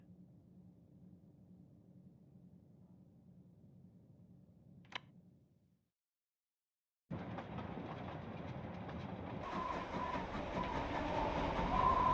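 A train on the Orient Express rumbles along with a low, steady rolling noise, goes briefly silent, then returns louder and fuller with a clattering, building rush close by.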